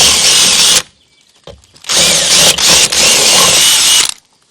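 A power drill whines loudly in close, sustained bursts as it drills holes in the aluminium of a van, stopping and restarting several times with brief pauses between runs.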